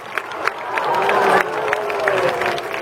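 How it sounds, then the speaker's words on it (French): Audience applause at a seal show, scattered clapping building into a fuller crowd noise with cheering and a long rising call, fairly close and lively. "on applaudit."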